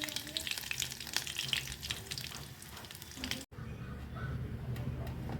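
Pomfret fish sizzles in hot oil with a dense, crackling hiss that spits and pops up close. A brief break near the middle is followed by steady frying again.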